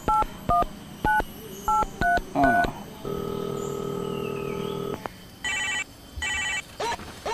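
A telephone dials with a string of short DTMF keypad beeps, then a steady ringing tone plays for two seconds before more paired electronic beeps, close and clear, with faint voices in the background.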